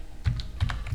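Quick keystrokes on a computer keyboard while drafting in AutoCAD, three or four close, crisp clicks in a short burst.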